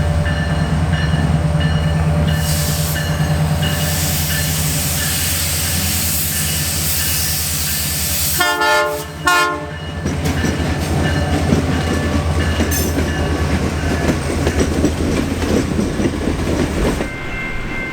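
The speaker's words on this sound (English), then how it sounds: "catch the holiday train's arrival for its layover for the night" The CPKC Holiday Train arrives, rumbling steadily along the rails with a loud, continuous roar, a brief burst of clickety-clack wheel noise midway, and hissing throughout.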